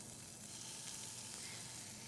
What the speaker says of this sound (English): Ah, the sizzle. Love the sizzle.